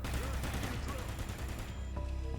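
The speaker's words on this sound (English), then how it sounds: "a new weapon attachment called the Arc, an improved muzzle brake that looks cooler and also sounds cooler" Rapid automatic gunfire from a weapon fitted with the Arc muzzle brake in a Call of Duty game, dense overlapping shots with a heavy low thump, loud and continuous for the short burst.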